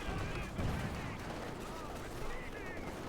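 An artillery bombardment in the war strategy game Company of Heroes 2 rumbles with dense, overlapping booms and gunfire under a commentator's continuous talk.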